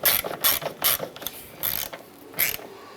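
A hand ratchet snugs down the nuts on a vapor canister purge valve of a 2005-2007 Ford Five Hundred, producing several short bursts of close, crisp clicking separated by brief pauses.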